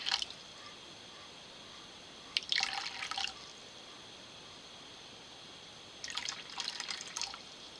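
Filtered water is poured and drips in two separate bursts of splashing and trickling, each lasting about a second. The bursts stand out over a steady hiss, with no talking.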